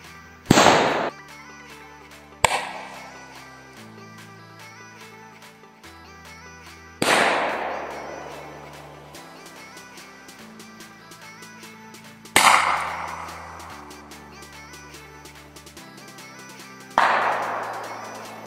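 A RAG airsoft grenade with a tracer is fired from a GPM-35 shell at night, producing five sharp, loud bangs spaced a few seconds apart, each ringing out in a short decaying echo.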